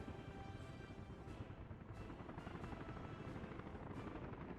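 A helicopter in the city-building video game Workers & Resources: Soviet Republic gives off a steady, dense rotor drone. The sound is continuous and fairly faint, with no talking.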